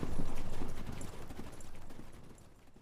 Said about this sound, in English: Robert gives his horse his heels and leads the egress through the gates of Storm's End.